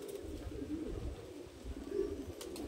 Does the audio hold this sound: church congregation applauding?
no